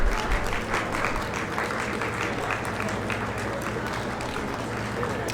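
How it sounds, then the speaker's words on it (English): Crowd applauding along the street at a Black Watch, 3 Scots military homecoming parade in Dunfermline, Fife, steady dense clapping throughout, at moderate distance. "Nice to see the folks clapping."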